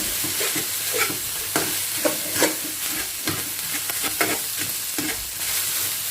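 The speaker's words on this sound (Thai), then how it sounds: "อันนี้เราก็ผัดต่อไป ไม่ให้ข้าวจับตัวเป็นก้อนนะคะ" Rice being stir-fried in a pan with salted fish, salted vegetables and crisp kale, a steady sizzle broken by repeated scraping strokes of the spatula, close and fairly loud with no talking.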